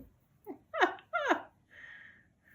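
Small puppies whine and yelp in a few short, high, rising squeals close by, ending with a softer drawn-out whimper.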